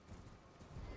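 Horse hooves clop steadily in the video game Elden Ring, a close, muffled rhythmic trotting that fills the short moment.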